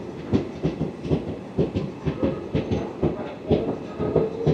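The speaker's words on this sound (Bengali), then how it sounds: "আমাদের ট্রেন এসে পৌঁছালো তাই যাত্রাপথের প্রথম স্টেশন কাঁথিতে আমাদের ট্রেনের হল্ট হচ্ছে মাত্র 2 মিনিট" Paharia Express train rolling into Kanthi station, with a steady rhythmic clickety-clack of wheels over rail joints and a rumbling carriage roar throughout, close and fairly loud, with no voices.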